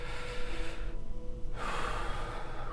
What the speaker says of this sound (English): allow a deep breath in.